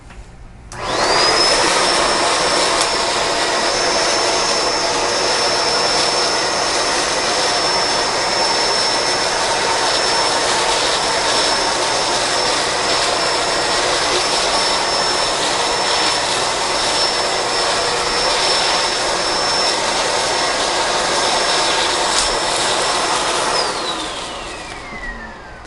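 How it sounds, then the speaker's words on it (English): A Bissell Pet Hair Eraser Turbo Plus vacuum runs on a hard floor strewn with popcorn: a loud, steady motor roar with a high whine that starts abruptly, holds for over twenty seconds, then winds down. "The Bissell Pet Hair Eraser Turbo Plus does not deal with popcorn very well."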